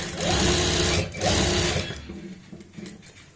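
Sewing machine stitching the front of a pair of trousers near the zip fly, two loud close bursts of rapid whirring separated by a brief pause, then fading into quieter handling noise.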